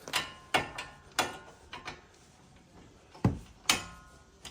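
Ratchet loosening 19 mm brake caliper bolts on a Nissan Qashqai during a front brake pad job, heard as several sharp metallic clicking bursts in two separated groups, close and fairly loud with quiet gaps between.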